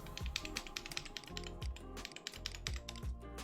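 Rapid, steady typing on a mechanical computer keyboard plugged into a keyboard tester, many crisp close key clicks and clacks with occasional heavier thocks, no voices.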